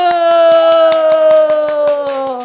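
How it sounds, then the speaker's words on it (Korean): A group in a classroom gives rapid, evenly spaced hand claps, a long run of sharp beats over a steady sustained tonal sound, loud and close. "우리 소나기 박수"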